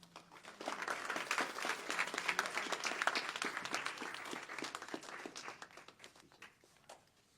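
An audience at a high school graduation ceremony applauds to welcome commencement speaker Fernando Lennon, a dense wash of clapping that swells quickly, holds for several seconds and then thins out, heard from a distance.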